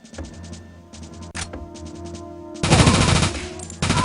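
Burst of Meyer TMP submachine gun fire in The World is Not Enough video game, a loud dense rattle of rapid shots after a few quieter clicks and game sounds.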